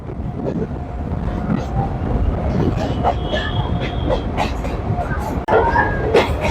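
A Kolkata suburban train on the Sealdah–BBD Bag line runs between Princep Ghat and Eden Gardens stations with a loud, continuous rumble and rattle. Wind buffets the recording, and faint background voices mix in.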